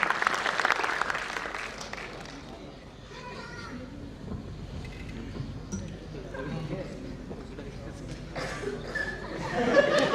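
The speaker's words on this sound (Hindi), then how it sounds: "जोरदार तालियां आप एकेश जी के लिए तालियां बजाएं भाई साहब" Loud audience applause at a live comedy show, a dense clapping wash that swells at the start, dips, and rises again near the end, with a voice talking over it.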